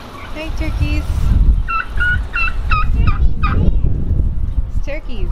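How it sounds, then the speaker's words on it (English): A group of turkeys gobbles loudly and close by, with bursts of rapid, warbling calls overlapping throughout, while a voice talks briefly under them outdoors at a marina. "It's turkeys."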